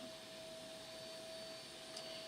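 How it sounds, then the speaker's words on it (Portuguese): A vacuum cleaner runs nearby as a steady, even drone lasting the whole stretch, with a sustained mechanical whine and no pauses or breaks in level. "E o aspirador chegando cada vez mais perto."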